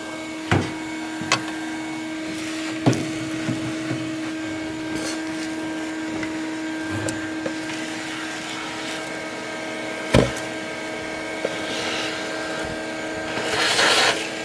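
A vacuum cleaner runs steadily inside an abandoned Ford Mustang Mach 1 full of rat droppings, with a whining motor hum, punctuated by scattered knocks and clatters as it is moved around.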